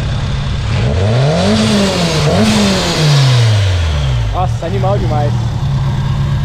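Supercharged Honda Civic Si engine revving hard, pitch climbing and falling through loud sweeps with supercharger whine, then quick short blips; someone speaks briefly over it.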